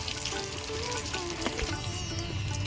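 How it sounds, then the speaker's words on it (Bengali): Amudi fish pakoras with onion and chilli deep-frying in hot oil, giving a steady, close crackling sizzle with dense bubbling that holds evenly throughout, with no voices. "পকোড়াগুলো ভালো করে আমি লাল লাল করে ভেজে নিয়েছি"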